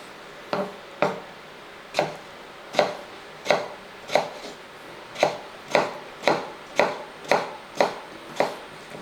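A knife chops potatoes into medium pieces for a Kerala potato thoran, with about sixteen crisp, evenly spaced cuts on a board, close and clear with no talking.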